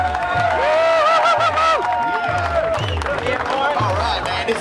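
A street crowd on Flinders Street, Melbourne, cheering and clapping around a live performance with a pulsing low beat, voices and whoops mixing loosely over the music while people talk.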